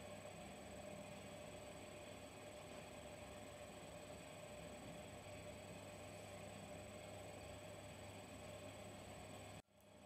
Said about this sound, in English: If you can hear that humming in the background, that's my central heating.